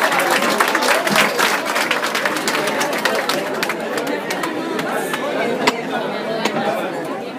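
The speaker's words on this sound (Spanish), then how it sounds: "Un aplauso para ustedes" Crowd applause at a political campaign event, dense steady clapping with scattered cheers and murmuring voices throughout, loud and close, holding strong for several seconds before easing slightly.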